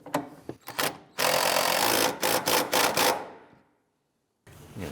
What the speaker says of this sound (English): I'm going to go ahead and tighten down this rear bolt.